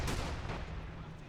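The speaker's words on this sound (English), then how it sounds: "Oh, some serious Russian artillery" Russian artillery explosion in a World War II battle game modded with RobZ Realism Mod, a loud broadband boom that rumbles low and decays over a second amid ongoing battle noise.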